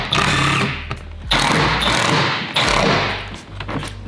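Self-tapping screws driven with a power driver into a Vanshades window pod on a VW T5/T6 camper van, heard as loud, close, rattling bursts of driving in three main runs with short pauses between.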